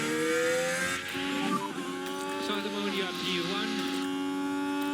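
F1 race cars from the racing game F1 Manager 2024 scream along a straight, engine pitch sliding up and down as cars pass through, loud and continuous with a brief dip midway.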